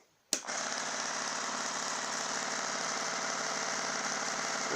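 Orgon generator motor-wheel spinning up after a sharp click, then holding a steady buzzing hum with a faint rapid pulsing, fairly quiet and close, with no talk over it.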